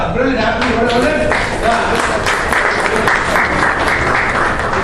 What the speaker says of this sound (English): Give me an applause